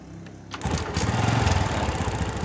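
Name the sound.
Honda Revo motorcycle engine starting without spark plug cap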